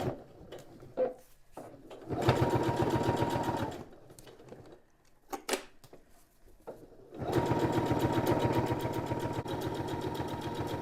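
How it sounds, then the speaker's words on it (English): A sewing machine stitches a 1/8 inch seam on a zippered expandable cosmetic bag, running in two sustained, steady bursts separated by a pause filled with handling clicks and fabric rustle. "we're going to sew along here with a 1/8 of an inch seam allowance"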